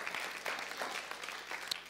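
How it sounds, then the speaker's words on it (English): A church congregation claps during a sermon, a soft, scattered patter of hands with a few sharper claps standing out, fairly quiet and distant. "That's worth clapping over."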